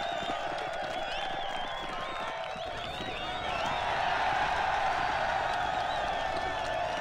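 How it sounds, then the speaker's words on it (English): Happy crowd cheering in the video game Baldur's Gate: Siege of Dragonspear, a steady mass of voices and clapping that swells slightly louder midway and holds throughout. "Everybody cheering."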